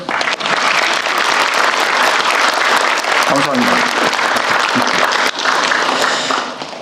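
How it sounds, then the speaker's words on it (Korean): Sustained audience applause fills a ministry work briefing with the president present, dense clapping running nearly the whole time while a voice briefly speaks over it. "박수도 한번 치세요"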